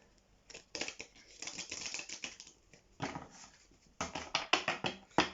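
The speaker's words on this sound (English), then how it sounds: "I am going to shuffle these ones on screen." A deck of Moonology oracle cards is shuffled close up in quick bursts of riffling and flicking, loudest near the end, with a few short pauses between bursts.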